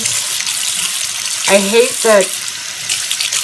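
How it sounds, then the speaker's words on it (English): Tap water runs into a bathroom sink while makeup brushes are wetted beneath it, a steady broadband hiss throughout, with someone speaking briefly over it partway through. "I just sit the soap in the sink, and then I start wetting my brushes"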